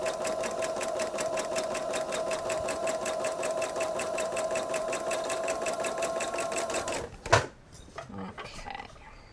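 Sewing machine stitching a quilt block seam, a steady close rapid mechanical whir running for about seven seconds before stopping with a clunk, followed by faint handling sounds.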